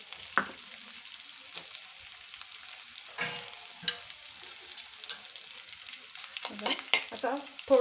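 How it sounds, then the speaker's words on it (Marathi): Edible gum fries in hot ghee in a kadhai while bajra laddoos are being made, a steady soft sizzle and crackle with occasional clinks of a stirring spoon against the pan, heard close up with no talking. "आपल्याला आता डिंक तळून घ्यायचा आहे"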